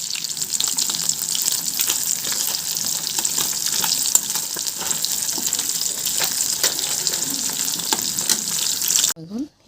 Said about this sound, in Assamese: মাছখিনি প্ৰথমতে ধুই লৈ তেলত ভাজিছোঁ